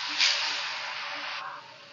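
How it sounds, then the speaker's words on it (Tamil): Snack dough drops into hot oil and sizzles with a sharp hiss that starts abruptly and fades over about two seconds, heard up close and fairly faint. "எண்ணெய் காஞ்சிருச்சு, நம்ம போட்டுடலாம் எண்ணெயில்."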